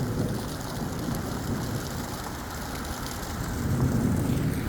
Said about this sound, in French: Il y a 3 tonnes d'eau, il y a 3 tonnes d'éclairs.